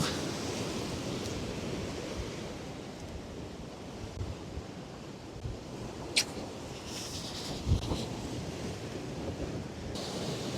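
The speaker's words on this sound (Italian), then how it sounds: "le onde diventano sempre più alte e si infrangono sulle scogliere" Stormy sea surf breaking against rocky cliffs on an Italian coast during a fishing trip, a continuous roaring wash with wind buffeting the microphone and a couple of heavier crashes, no voices.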